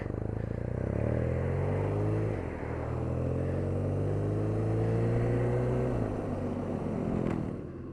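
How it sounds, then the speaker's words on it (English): A 2017 BMW R NineT Urban G/S scrambler with its air-cooled 1200cc boxer engine, riding under steady load with rising engine tones, one gear change and wind rush, loud and continuous. "here we are with the BMW air-cooled engine, 1200cc"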